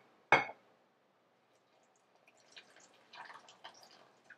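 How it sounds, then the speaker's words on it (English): A boiled mixture of butter, sugar and milk for a baking recipe splats into a bowl of dry ingredients in one short, fairly loud plop, followed by a quiet pause and faint scattered clinks and scrapes. "Now I'm coming in with our boiled mixture of butter, sugar, and milk. I'm gonna add this to our bowl of dry ingredients."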